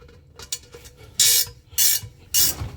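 A ratcheting wrench at work during a Duramax truck air horn and compressor install, a few faint clicks and then three loud rasping bursts of ratchet action close up, with no talk.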